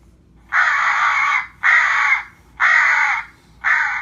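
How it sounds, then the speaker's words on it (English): Four harsh, drawn-out crow-like caws play from a FoxPro electronic caller as a baby crow distress call, evenly spaced and loud, each a raspy squall about a second long. "We'll play the crow baby distress because this call does work"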